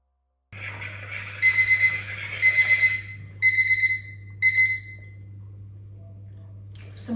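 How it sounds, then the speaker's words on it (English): A kitchen timer rings loudly in four bursts of rapid high beeping over a low steady hum, then stops. "So my timer has gone off"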